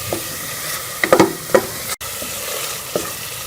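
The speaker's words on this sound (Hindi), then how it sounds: "ये सारे मसाले भी इसमें शामिल कर लेंगे और इसमें जो है अच्छी तरह से भून लेंगे" Spices and tomatoes fry in a pan for moong dal tadka, a constant close sizzle with a few sharp spatula scrapes and stirs clustered together, brief and moderately loud, no speech.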